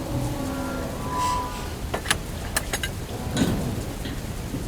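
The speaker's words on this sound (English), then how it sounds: "Oh, look at that rain." Heavy rain pours on a trucking route during a gloomy day, a loud steady wash of drops with a few sharp cracking hits scattered through and no voices.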